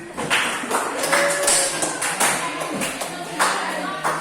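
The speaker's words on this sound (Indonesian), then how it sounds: "tepuk tangan untuk Kamsa." Students in a classroom clap together, giving a run of sharp, uneven bursts of handclaps at close range in a lively room, with some light knocking mixed in.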